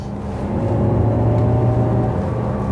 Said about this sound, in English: it's an artificial sound being piped to the interior of the car via the speakers